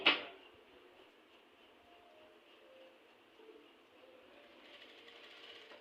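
A sewing machine runs a short stitch around a blouse neckline, producing a faint, even mechanical hum and light clatter after a sharp click at the start.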